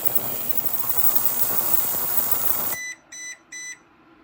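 An ultrasonic cleaner's timer finishes with three short electronic beeps in an even rhythm after its loud, hissing ultrasonic cleaning noise cuts off abruptly.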